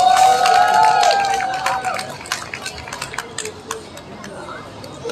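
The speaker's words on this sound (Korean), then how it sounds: "박수 한번 쳐볼까요?" At a climate justice march rally in Daejeon, a crowd breaks into scattered, uneven hand clapping that starts strong after a brief tonal sound and thins out over a few seconds, with no one speaking over it.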